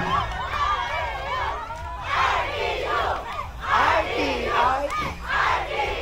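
A crowd of students cheers and shouts at a civic parade, loud chanted yells rising and falling in several bursts, with a voice calling out among them.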